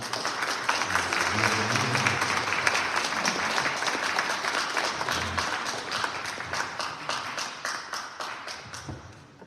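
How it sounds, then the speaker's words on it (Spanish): Warm audience applause at a public talk with a survivor of the 1968 student movement, a dense, sustained wash of many hands clapping that slowly thins toward the end. "Yo les pido que lo recibamos con un cálido aplauso."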